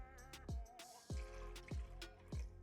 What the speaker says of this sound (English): we will pour about 1/2 cup of our key lime juice or your lime juice into